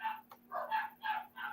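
Dogs bark in a repeated series of four or five short, sharp barks at a moderate distance, with no talking over them.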